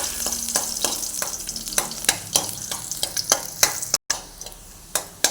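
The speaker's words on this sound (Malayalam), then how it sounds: "ഇഞ്ചി, വെളുത്തുള്ളി, പച്ചമുളക് മൂന്നും ഇട്ട് കൊടുക്കാം." Ginger, garlic and green chillies fry in hot coconut oil over low heat, a close steady sizzle punctuated by sharp spatula clicks and taps against the pan.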